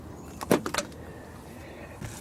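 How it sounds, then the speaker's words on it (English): Door of a 2000 Kia Sephia being shut: a quick cluster of dull thuds and latch clicks near the start, then a softer knock a moment later, close and without talking. "Shut the door."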